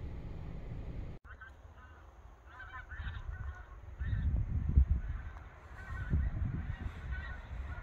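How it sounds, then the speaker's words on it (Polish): A flock of geese honking over the Lake Barlinek area in West Pomerania, with scattered honks that come in two louder bursts midway and near the end, moderately distant, over a steady outdoor background. "Klucz gęsi słychać."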